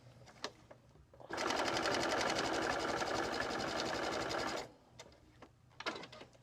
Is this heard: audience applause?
no